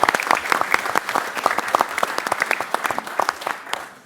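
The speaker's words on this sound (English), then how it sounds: "And if we could have a quick round of applause as well for Martin on the microphone and Sue, our ex" Scattered audience clapping at an election hustings for candidates for Deputy, a thin, moderately sized round of claps with distinct individual hand strikes that lasts about four seconds and fades at the end.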